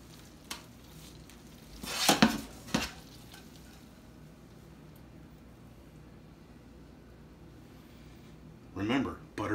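Butter frying in a pan for a pastrami omelette, a low, steady sizzle with a couple of louder bursts of stirring and pan clatter.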